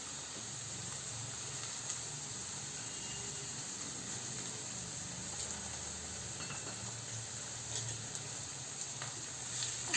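Green peas sautéing with onions and paste in a pan over a low flame for paneer veg, a steady soft sizzle and hiss with faint clicks, continuous and fairly quiet throughout with no voices.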